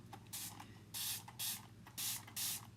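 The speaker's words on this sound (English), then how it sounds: "So I'm just spraying a little bit," A spray bottle mists water to loosen chalk paste on a Halloween pumpkin craft. About five short, close hissing puffs come in an uneven rhythm over a low background hum.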